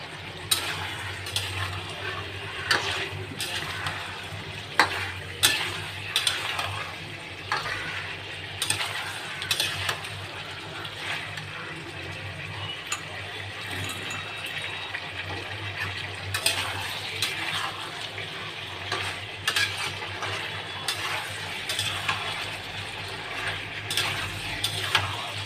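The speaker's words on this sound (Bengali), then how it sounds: "ভেজে রাখা পনিরগুলো। দিয়ে ভালো করে মিক্স করে নেব।" Fried paneer stirred in a pan for an offering dish, a steady run of scraping and metallic clinks against the pan over a constant low background hum, with no talking.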